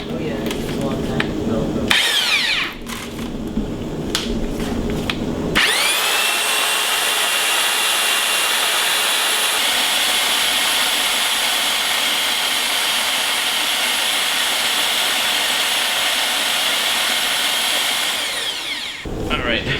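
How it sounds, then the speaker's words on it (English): An electric grain mill crushes malted grain for brewing an IPA, giving a loud, steady motor whine with grinding noise that runs for many seconds before spinning down, preceded by short bursts and handling noises. "This is my first time using a grain mill."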